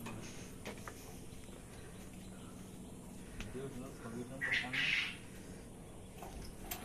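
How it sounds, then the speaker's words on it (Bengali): A rooster outside a quail farm gives a short, distant call partway through, heard faintly under nearby voices and steady background noise. "বাইরে থেকে ডাকতেছে, মোরগ ডাকে না?"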